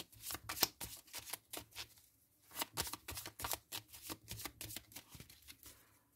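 Tarot cards being shuffled for a card reading, a series of close, crisp riffling bursts in uneven rhythm with brief pauses, fairly quiet, with no talking.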